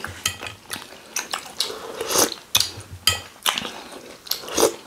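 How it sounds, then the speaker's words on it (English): Chicken pepper soup being eaten close up, with spoon clinks against a bowl, slurps and chewing in an irregular, busy rhythm and no talk. "Look at the way I'm drinking this."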